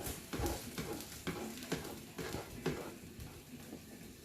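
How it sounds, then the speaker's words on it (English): Chilli cooking sizzles and crackles in a pan, with intermittent stirring clatter and soft scrapes, quiet and close, no voices. "So we're starting to sizzle now, so we're starting to cook"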